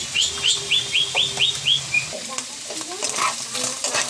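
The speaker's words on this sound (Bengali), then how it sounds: "ডিম দুটোকে আমি এইভাবে ভাজিয়ে নেব।" Eggs frying in white oil in a pan, a soft crackling sizzle with stirring scrapes, while a bird chirps in a quick run of repeated notes nearby.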